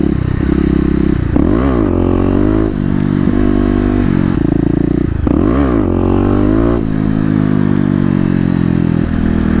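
A Kawasaki KLX250 dual-sport motorcycle revs hard for wheelies, its engine climbing and falling in two loud rising and falling sweeps over a steady throttle drone, close and with no talk.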